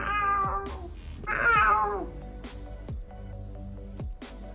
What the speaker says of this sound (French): Ça fait miaou, miaou.